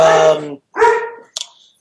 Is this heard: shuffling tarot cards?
no